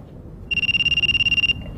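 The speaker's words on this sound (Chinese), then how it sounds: "我去接电话。" A telephone rings with a bright electronic ringtone, one continuous near, loud burst of about a second over a quiet indoor room.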